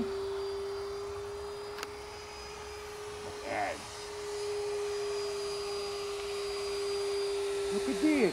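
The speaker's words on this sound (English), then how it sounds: "It flies like on the tracks, Captain Blush" Venom Cat 70mm electric ducted fan model jet on a 6S battery, flying at low throttle on its maiden flight, gives a steady, thin whine under a broad rushing hiss, holding fairly even throughout with a brief swell midway.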